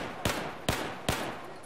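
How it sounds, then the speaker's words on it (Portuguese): Three sharp single shots from an F2000 assault rifle in Battlefield 4, evenly spaced about half a second apart, each a crisp loud crack with a short tail, no voices. "Aí quando eu aperto, sai um tiro só."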